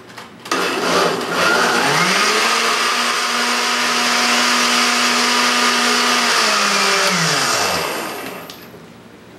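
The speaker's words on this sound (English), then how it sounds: "Put your lid on and blend it up." A blender mixing a post-workout protein shake, a loud steady whirring drone that spins up quickly, holds for several seconds and then winds down, heard alone.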